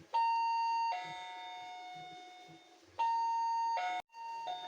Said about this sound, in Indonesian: dan suara bel menyala